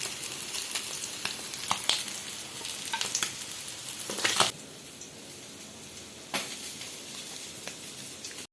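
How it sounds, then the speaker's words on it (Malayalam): Cleaned sardines frying in hot oil give a close, steady sizzle with crackling spits. The sizzle drops to a quieter, softer frying hiss halfway through, then picks up again with a few sharp pops. "നല്ലൊരു മത്തി ഇവിടെ വൃത്തിയാക്കി ഫ്രൈ ചെയ്ത് എടുത്തിട്ടുണ്ടേ"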